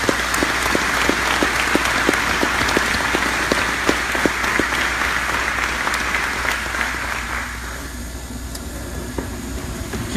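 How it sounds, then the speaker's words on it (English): Audience applause at an Army awards ceremony, a steady wash of many hands clapping that continues for several seconds before thinning and fading toward the end. "Please join me in a round of applause."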